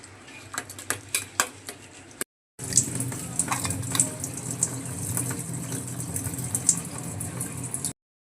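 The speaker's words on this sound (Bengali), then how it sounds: "শুটকি মাছটাকে ভালোভাবে ধুয়ে নিচ্ছি" Dried fish being washed by hand in water in a kitchen: short splashes and clinks of a pot come first, then a steady rush of running water with occasional knocks.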